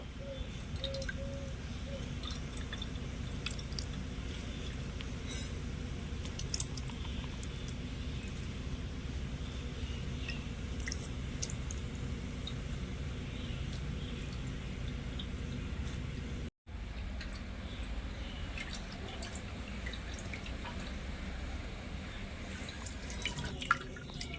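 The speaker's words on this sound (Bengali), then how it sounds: "এবার আমি চেপে চেপে কাঁঠালের রসটা বের করে নেবো" Ripe jackfruit pulp is squeezed by hand through a net to press out its juice for making jaggery, giving wet squishing and dripping sounds with a steady background hum, close and continuous, with no talking.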